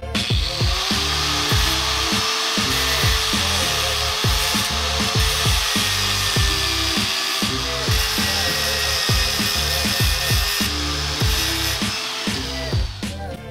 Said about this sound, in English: So we got the angle grinder over there.